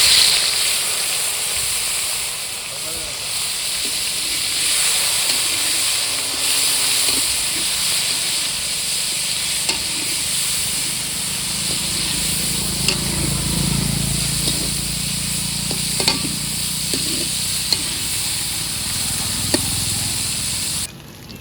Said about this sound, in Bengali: আমাদের তেল গরম হয়ে গেছে এখন আমরা মাছটাকে ছেড়ে দেবো